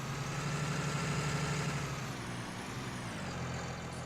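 A tractor engine in Farming Simulator 19 drones steadily at idle, a low heavy rumble that dips slightly in pitch partway through, with no voices.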